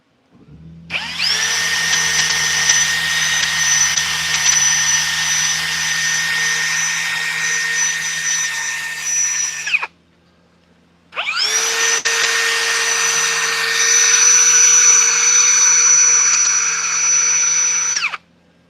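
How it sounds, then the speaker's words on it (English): A power drill whirs at high pitch in two long, loud bursts while woodturning, about nine and seven seconds each, separated by a short pause, close up. "back to the drill a little bit"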